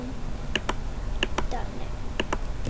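Code is typed on a computer keyboard in quick pairs of crisp key clicks repeating at a steady pace, close and clear over a faint background hum.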